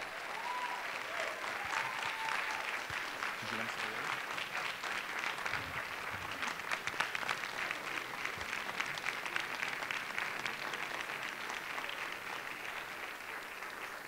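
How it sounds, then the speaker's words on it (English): An audience at a town hall meeting applauds Mr. Stokes as he is called up to receive a certificate for heroism, with steady, sustained clapping throughout and a few faint voices underneath. "Keep giving him a round of applause"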